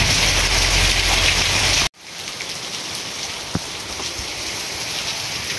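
Heavy rain pours down in a jungle, a dense, steady hiss of drops; the roar cuts out abruptly and resumes slightly softer, with a few distinct drip taps standing out.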